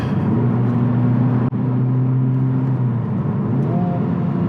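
A Honda Civic Type R FL5 pulls in second gear with a close, steady engine drone. Its tone climbs slightly toward the end under constant road noise.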